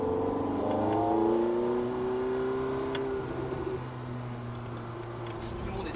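A Ferrari F430 engine on a track climbs under light throttle in a smooth rising tone, then eases off into a steadier drone; someone talks over it.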